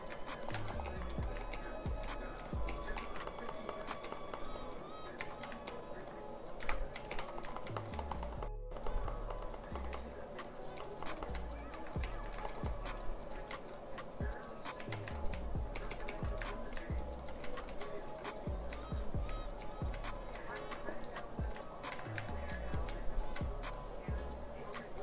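Steady keyboard typing and mouse clicking continue through Hypixel gameplay, a dense run of close taps and clicks under faint game sounds and occasional talk.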